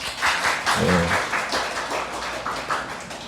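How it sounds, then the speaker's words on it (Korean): A church congregation at a Wednesday service giving applause of encouragement, a broad wash of clapping heard from a distance in a reverberant room, steady for a few seconds. "우리 감사드리면서 격려의 박수 한번 하겠습니다"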